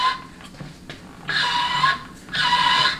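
A high, thin squeal from a 700R4/4L60E transmission's low roller clutch rises in two sustained bursts as the output shaft spins, with softer mechanical whirring between them.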